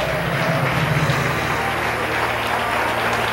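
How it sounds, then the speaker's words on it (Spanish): Church congregation applauding during a Spanish-language worship service, a steady wash of clapping mixed with a low hum of sustained music or organ tones beneath it. "Dale un aplauso al Rey"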